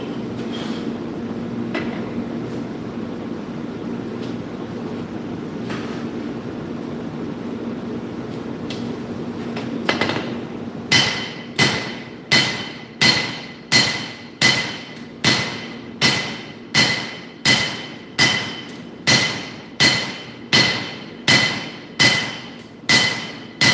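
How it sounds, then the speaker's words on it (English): Steel being hand-forged into nakiri knife blanks: after about ten seconds of steady room hum, loud sharp hammer blows ring out in a regular, quick rhythm, roughly one strike every second, close by and with no talk. "Forging is actually going quite fast today."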